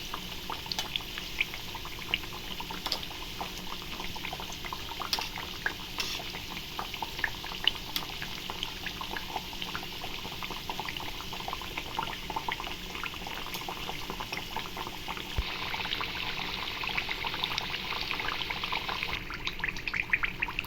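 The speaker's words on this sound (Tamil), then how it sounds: "இப்போ நல்லா ஃப்ரை ஆகிடுச்சு." Rice flour thattai snacks frying in hot oil: a continuous, even bubbling crackle of fine pops that holds at a steady level for a long stretch, close by and without speech.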